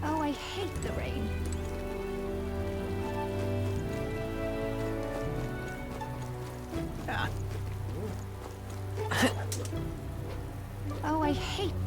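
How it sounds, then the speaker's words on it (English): Steady rain falls in the video game Metaphor: ReFantazio, a continuous hiss of drops on surfaces mixed with game music and brief voice snippets over the whole stretch. "Oh, I hate the rain."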